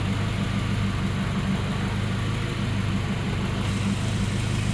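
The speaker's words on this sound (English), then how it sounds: "she'll sit and idle just as beautiful. Got this thing warming up." A Honda fitted with a swapped JDM H23A VTEC engine idles steadily while warming up, giving a continuous low rumble that stays even and close throughout.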